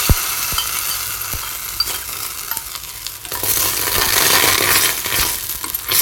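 A chilli, tomato and garlic paste fries in a kadai of oil for a Schezwan sauce, a steady loud sizzle that swells and grows harsher midway, with a few sharp clicks of a spoon stirring against the pan.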